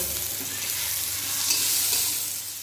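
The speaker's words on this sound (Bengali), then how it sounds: "আমগুলো সব কিছুর সঙ্গে খুব ভালো করে একটু ভাজা ভাজা করে নেব।" Raw mango pieces fry with spices in a hot pan, giving a steady, close sizzle with faint stirring scrapes throughout and no talk.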